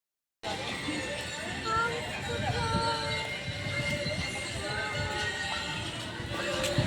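A toy train ride at an amusement park rumbles along steadily, with a continuous rolling clatter and faint squeals close by while voices talk over it.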